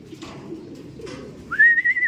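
A clear, rising pigeon call rings out near the end after a stretch of quiet background rumble, a short whistled tone close by at a racing pigeon loft.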